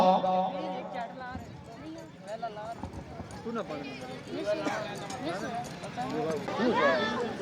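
A horse's hoofbeats drum in a rapid gallop at a tent pegging contest during a spring festival in Kohali, running steadily under continuous loud commentary from an announcer.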